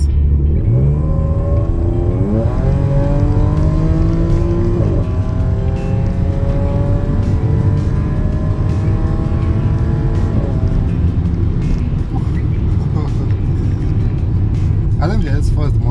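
Supercharged Audi S4 accelerating hard, its engine note climbing through repeated rising sweeps with a steady supercharger whine, loud and close from inside the car, settling to a lower rumble near the end.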